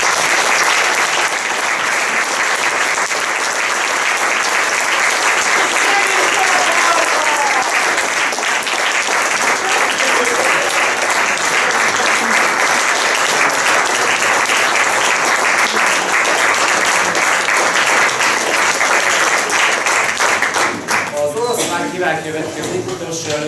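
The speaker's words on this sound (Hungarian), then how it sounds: "külön egy nagy tapsot kérjek az előbbi számért" Sustained audience applause fills the hall after a piece by a youth wind band at a concert, loud and steady throughout with a dense clapping texture, thinning slightly near the end.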